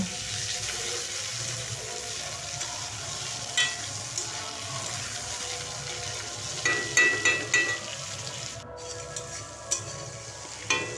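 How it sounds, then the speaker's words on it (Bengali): Prawns frying lightly in oil for a Bengali katla fish curry, a soft continuous sizzle with occasional sharp clicks and taps of a utensil in the pan. "এরপর চিংড়ি মাছগুলো আমি ভেজে নিচ্ছি"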